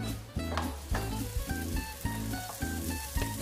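Eggplant slices sizzle and crackle in a non-stick frying pan, with rhythmic scraping or stirring thuds recurring about every half second.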